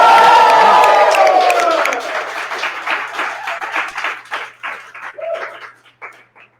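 An audience breaks into loud applause and cheering, with whoops over dense clapping that tapers off into sparse individual claps as the crowd settles.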